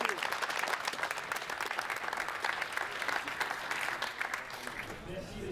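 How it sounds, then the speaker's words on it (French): A martial arts competition audience gives a warm ovation for a fighter named Rudolf, steady dense applause from a crowd filling the hall, with a voice speaking over it. "je crois qu'on peut encore faire une petite ovation à"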